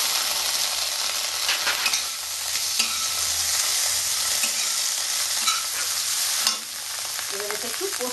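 Prawns fry with cumin paste in a hot pan, giving a continuous close sizzle and hiss broken by occasional utensil taps and stirring.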